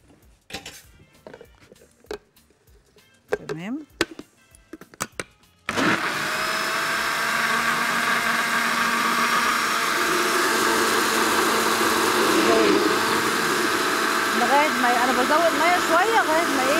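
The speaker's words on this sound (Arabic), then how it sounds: "لا الخلاط بيضربها تماما بقى" An electric blender switches on abruptly after quiet kitchen sounds and runs with a loud, steady whir, whipping batter for qatayef pancakes, the pitch wavering slightly as the mix thickens.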